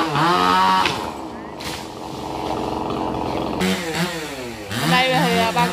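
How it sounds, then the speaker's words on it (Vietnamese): A chainsaw cuts a branch from a tamarind tree growing close to a fence, its steady buzzing engine running through the middle under and between loud nearby talking voices. "Còn cây me gần hàng rào quá nên phải cưa bỏ."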